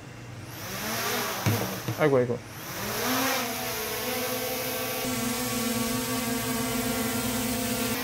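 A DJI Mini 3 Pro drone with genuine propellers whines up into a steady, loud buzzing hum as it lifts off, with a brief exclamation from a person near the start.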